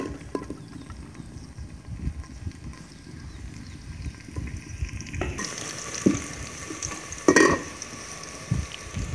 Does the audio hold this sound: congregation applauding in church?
no